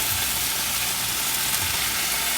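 Tofu goes into a pan of half-cooked okra in a stir-fry, giving a loud, steady sizzle and hiss of hot oil with soft stirring thuds underneath, close up and with no talking.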